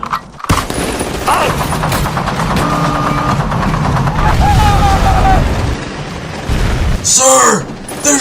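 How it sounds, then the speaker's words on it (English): Artillery shelling and gunfire in a stop-motion battle, with repeated booming blasts and bursts of fire running continuously and loudly throughout, mixed with shouting voices and music-like tones. "They're shelling us!"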